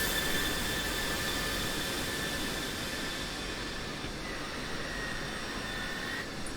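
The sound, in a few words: F-16 Viper jet engine taxiing in DCS video game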